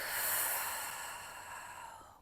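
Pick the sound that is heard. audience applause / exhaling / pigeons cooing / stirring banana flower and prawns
exhaling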